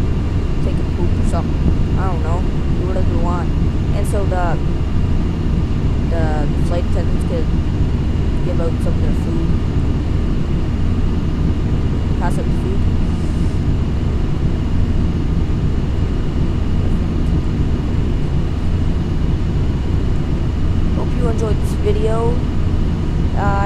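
Airplane taking off in stormy weather in Flight Simulator X, a constant loud engine roar with rushing wind and rain noise, and occasional brief chirps over it.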